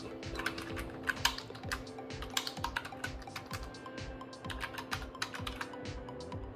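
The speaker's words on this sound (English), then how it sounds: "And again, I'm going to type here." A keyboard connected to a tablet is typed on steadily, with rapid, close clicking keystrokes over a low background hum and no speech.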